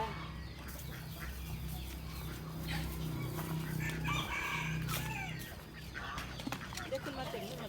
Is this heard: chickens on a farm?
yes